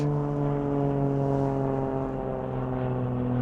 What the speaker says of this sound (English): Oh, hey, there's a plane.